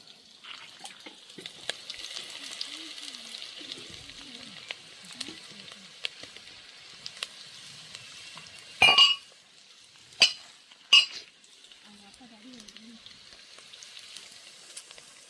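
A pounded paste of garlic, pepper, cumin and fennel frying in a pan for country chicken curry, a soft steady sizzle with a few sharp clinks of a utensil stirring against the vessel.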